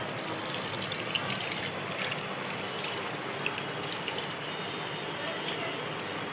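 Tap water running steadily into a sink as a child washes dirty hands, a continuous close splashing rush with light spattering.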